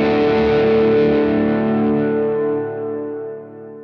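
Overdriven electric guitar through a Bluesbreaker-style overdrive rings out in a loud, gritty chord that sustains and gradually decays over a few seconds, played alone.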